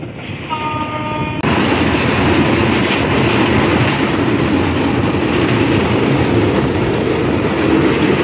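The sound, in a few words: Chitra Express train running on rails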